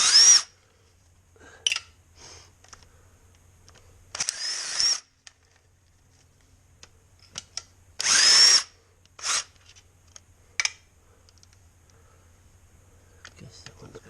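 A power tool loosens valve cover bolts on a Mercedes E320 in short, loud, high-pitched whirring bursts of about half a second to a second, separated by quiet gaps, with faint clicks in between.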